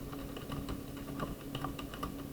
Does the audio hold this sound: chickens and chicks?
no